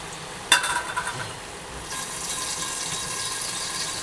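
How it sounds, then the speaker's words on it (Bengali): Small fish curry with eggplant is stirred with a spatula in a pan over high heat, a sharp scrape followed by a few clinks, then a soft steady sizzle, close with no talking. "নাড়ানি দিয়ে নাড়িয়ে দেওয়া হচ্ছে। চুলোর আঁচ কিন্তু একেবারে হাই হিটে আছে।"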